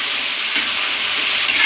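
A vegetarian spice paste of ginger, cumin, chilli, tomato and capsicum sautéing in a pan, a brief, even, close hiss and sizzle with no voices.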